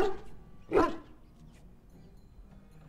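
A dog barks once in the video game Dragon Age Origins, a short mid-loud bark near the start amid quiet game ambience, with no talk over it.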